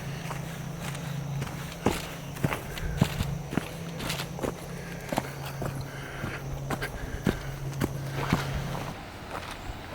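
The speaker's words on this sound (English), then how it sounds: "so you'll be doing some stepping and stomping along the way" Footsteps on a woodland trail to a hidden waterfall, stepping over downed trees: irregular crunching steps and thumps on leaf litter and wood, fairly close, with a faint steady hum in the background.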